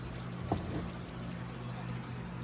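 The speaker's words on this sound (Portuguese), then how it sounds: "E agora eu vou coar meu cafezinho." Hot water is poured onto ground coffee in a cloth filter in a rural kitchen at night, making a steady soft rushing stream with a small splash near the start.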